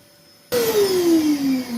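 After a short silence a vacuum cleaner switches on abruptly while sucking up oily liquid from a planing machine, its loud motor whine sliding steadily lower in pitch as it runs.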